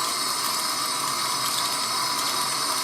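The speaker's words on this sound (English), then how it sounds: "I'm going to give it just maybe a little bit more pressure with the water" Steady running water rinses strands of hair feathers under a tap with a bit more pressure, a continuous close hiss and gush with no talking.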